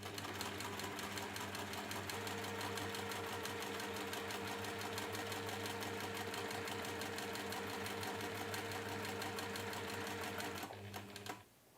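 A sewing machine stitches a fabric pouch at a shortened stitch length, a steady close mechanical whir with rapid rhythmic needle ticking that runs unbroken for about ten seconds before slowing to a stop.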